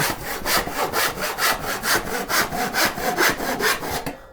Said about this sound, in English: Now I'm not going to use the full length of the saw because the back is going to run into it here.